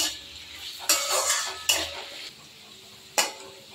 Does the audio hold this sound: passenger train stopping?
no